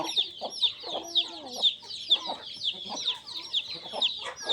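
A flock of country chickens, fifty to sixty birds, clucking and chattering continuously on a farm, many overlapping calls nearby, with a few longer squawks.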